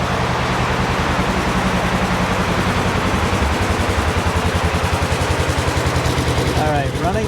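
A 2022 Polaris RZR Trail S side-by-side engine runs at a steady, loud, throbbing idle close by, unbroken throughout with a faint squeak near the end.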